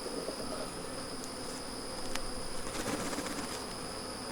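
Honey bees hum steadily around opened hive frames during a late-summer nectar dearth, a continuous close buzz with a faint high whine running throughout.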